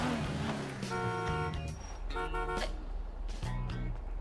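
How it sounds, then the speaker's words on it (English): A car horn honks in a video game: three separate bursts of bright, blaring toots over steady engine and street rumble, with the middle blast the strongest. "You're honking at me."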